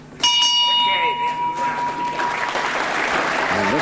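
A boxing round bell rings at the end of the first round, its clear ringing tone sustained over loud crowd applause and cheering in the arena, with a commentator talking underneath.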